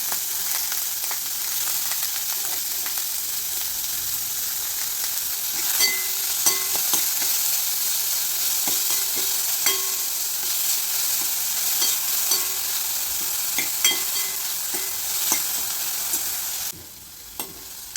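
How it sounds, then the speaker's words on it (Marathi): Finely chopped onion and curry leaves frying in a pan for a matki usal, a steady close hissing sizzle with faint pops and stirring taps throughout, then a sudden drop in volume near the end. "त्याचबरोबर आपण बारीक चिरलेला कांदा टाकून घेणार आहोत"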